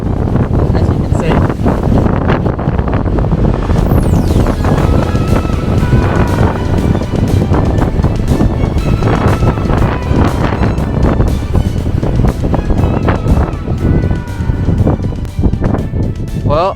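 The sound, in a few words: strong wind on mountain summit, Overland Track, Tasmania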